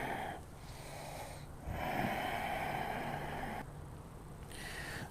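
Steady, close breathing during a yoga exercise in a class, with long, airy inhales and exhales that alternate in slightly louder and softer phases and no talk.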